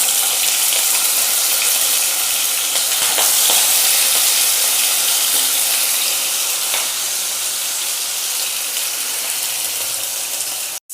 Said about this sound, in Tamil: இப்போ எண்ணெய் நல்லா சூடாயிடுச்சு. நம்ம நறுக்கி வச்சுருக்க வாழைக்காவை சேர்த்துக்கலாம்.